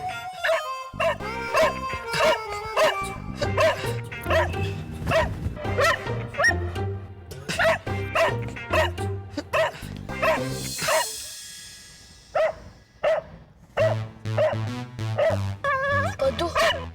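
Dogs bark and yip continuously in a busy scene from a Hindi television series, loud and close, mixed with whimpers and a howl. Music and other sounds run underneath, with a brief hush partway through before the barking returns.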